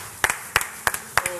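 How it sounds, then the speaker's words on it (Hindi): Hands clap in a slow, even rhythm, four distinct double-struck claps spaced evenly apart, fairly quiet and close, with no other sound between them. "तालियां"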